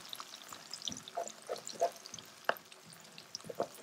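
Garlic, ginger, green chilli and curry leaves frying in a pan while being stirred: a quiet, sparse crackle with scattered clicks and light scrapes from the stirring.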